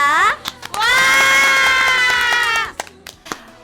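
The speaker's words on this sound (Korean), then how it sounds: "모든 순장님들께 감사와 응원의 박수를 보냅니다" A church congregation cheers and claps for all the small-group leaders, a loud sustained shout of voices with scattered clapping, rising abruptly and cutting off after about two seconds, followed by a few isolated claps.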